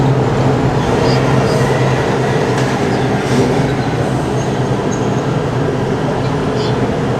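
An MTA New York City Transit R142 subway car on the 5 line rumbles loudly and continuously from inside, with rail noise and occasional faint wheel squeals throughout.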